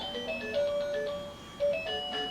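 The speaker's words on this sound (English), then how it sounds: "That turtle that just makes a lot of noise" A noisy musical toy turtle plays an electronic jingle, bright beeping tonal notes in a looping melody, fairly close and steady with no talking over it.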